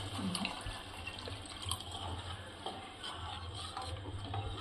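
Water pours steadily into a pan of sev and tomato curry for gravy, a continuous splashing trickle under a low background hum, with no talk.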